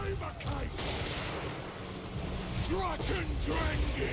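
Video game gunfire is aimed at a Cygor, with bursts of shots and mechanical clatter mixed under near-constant talking.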